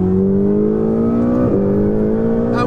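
Ferrari 488 GTB turbocharged engine and exhaust heard from inside the cabin, a loud steady drone that climbs in pitch, dips briefly at a gear change, then pulls again, with no voices.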